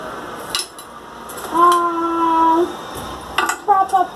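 Shards of broken ceramic pots clink and scrape against each other as they are handled while repotting a plant, with a few sharp taps and a longer ringing scrape, close and clear.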